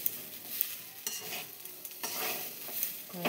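Pulao rice with cashews and raisins frying in a wok, with faint sizzling and a few soft scraping stirs that come and go at a low, close level.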